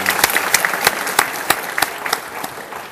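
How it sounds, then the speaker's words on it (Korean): A church congregation applauds in praise during a worship service. The clapping is crisp and steady, with distinct sharp claps rising above a dense background of applause. "하나님께 영광의 박수 한번 올려드립시다."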